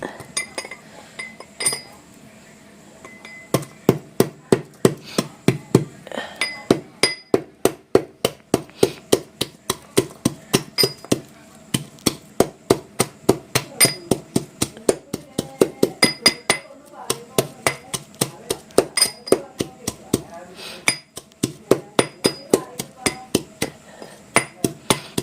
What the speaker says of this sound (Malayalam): അതിൽ ചേർക്കാൻ വേണ്ടിയിട്ട് വെളുത്തുള്ളി ഒന്ന് ചതച്ചെടുക്കാം